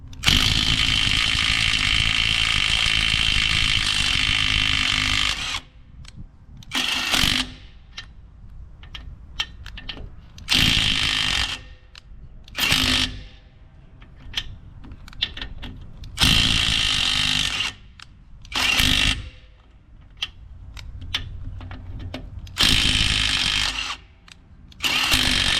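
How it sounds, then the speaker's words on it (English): A Hyper Tough 12V brushless 3/8-inch impact wrench loosens lug nuts, running in loud rattling hammering bursts of a few seconds each, some long and some short, with quieter gaps between them. "Can this little 12-inch impact wrench do it?"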